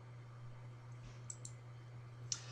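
A computer mouse gives a few quiet, sharp clicks, two close together and one more a moment later, over a low steady hum in a quiet room.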